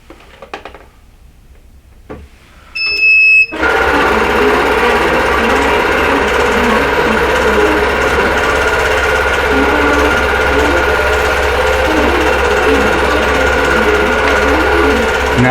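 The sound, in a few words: quilting machine moving its head and stitching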